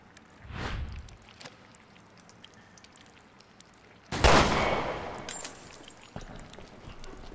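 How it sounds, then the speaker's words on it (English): Gunshots in the survival game Resident Evil: Revelations 2, fired at a key out of reach in a dark penal colony: one muffled boom early, then a loud close blast with trailing echo, and a later sharp report. "Let me try shooting it down."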